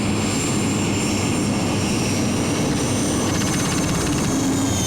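A pulling tractor powered by four 1,500-horsepower Super Frelon helicopter turbines roars at a European tractor pulling event at Walibi Flevo, Holland, in 1994, a loud continuous turbine whine and rush with a high whistling tone throughout.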